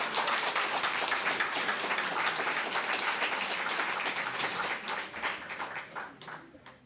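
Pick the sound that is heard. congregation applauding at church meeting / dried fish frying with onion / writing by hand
congregation applauding at church meeting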